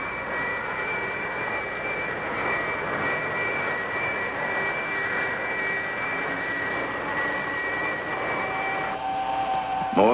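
A jet engine's thrust rising in a steady, roaring whine with bright tonal harmonics; near the end the tones shift upward as the power increases.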